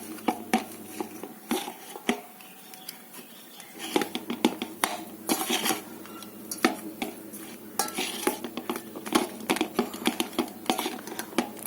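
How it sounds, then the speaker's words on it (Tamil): Coconut being grated by hand for topping finger millet puttu: repeated rasping, scraping strokes in an irregular rhythm, close and fairly clear, with light clinks of utensils and no talking. "தேங்காய் பூ துருவி"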